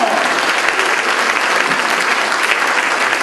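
A live audience applauds four guests after a group challenge at an evening event, a loud, continuous wash of clapping from many hands that holds steady throughout.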